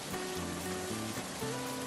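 Rain falls outdoors beside a railway platform, a steady close hiss of drops beneath a tree that holds level for the whole stretch, with soft sustained tones drifting underneath.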